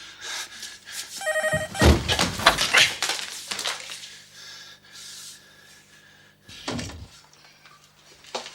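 An old-style telephone bell rings in a short burst near a tense emergency-call scene, followed by thuds, clatter and scattered noise. There is no clear speech.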